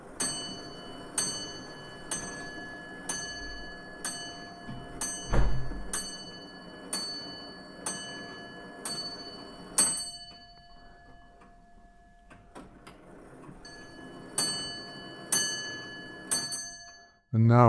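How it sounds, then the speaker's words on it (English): Antique pendulum clock at a folk park ticking just after winding, with loud, ringing metallic ticks about once a second, close and steady, briefly softer midway, ending with a thud. "Then start the pendulum, and you can hear the clock ticking."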